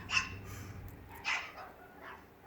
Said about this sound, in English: their dogs are barking too